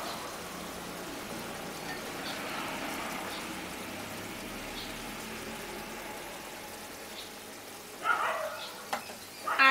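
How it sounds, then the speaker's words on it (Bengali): Egg masala curry simmering in a pan, giving off a soft, steady bubbling hiss at low volume, with a few louder stirring or clinking noises toward the end. "এখন এটাকে কিছুক্ষণ ফুটতে দিচ্ছি।"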